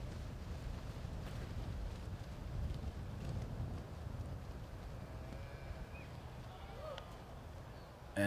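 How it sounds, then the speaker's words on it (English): Wind blows outdoors across a disc golf course at a professional tournament, a steady low rumble buffeting the microphone throughout, with faint distant voices now and then. "Wind picking up a little bit."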